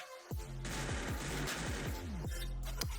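Rapid automatic gunfire in the Free Fire battle royale game, a dense burst of repeated shots with a descending tonal sweep running under them, loud and continuous for about two seconds before tapering.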